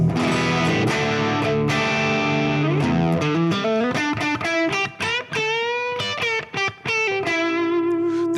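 Les Paul electric guitar played on both pickups with the neck gain raised, running through an IK Multimedia ToneX pedal with reverb into a BOSS GT-1000, giving loud distorted chords and riffs with rapid note changes and sustained ringing tones.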